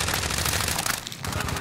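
Loud, continuous machine gun fire in the video game Call of Duty, a dense rapid burst with a brief dip midway before the shooting resumes at full intensity.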